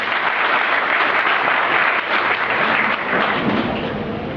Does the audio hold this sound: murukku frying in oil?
no